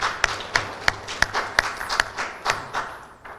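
Sparse, scattered hand clapping from a small audience honouring a president at a youth wing audience, about a dozen distinct claps spread irregularly over a few seconds, fairly close and fading toward the end.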